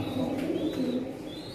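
Pigeons coo in low, throaty rolling calls, a steady murmur of several birds close by, with faint chirps above and no speech.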